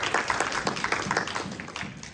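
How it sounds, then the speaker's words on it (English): A church congregation claps together in a clap offering, a dense, steady spatter of many hands at moderate distance, with faint voices mixed in. "I can give the Lord a clap offering."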